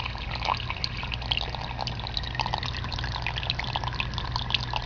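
Water leaking inside an apartment wall, a steady trickling and dripping flow with continuous splashy texture, fairly close and constant throughout.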